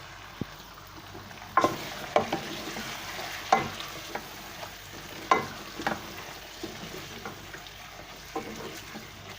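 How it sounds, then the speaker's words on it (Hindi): Chicken pieces fry in a karahi with a soft continuous sizzle, and a spoon scrapes and clacks against the pan in sharp, irregular stirring strokes. The sound is close and moderately quiet. "चिकन डालने के बाद इतनी देर भुनेंगे कि इसका कलर चेंज हो जाए।"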